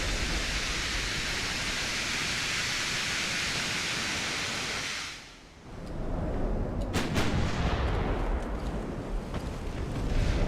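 Battleship gunfire in the naval game Ultimate Admiral: Dreadnoughts. A heavy roaring wash fades out, then several deep booming shots go off with rumbling tails over a steady background roar.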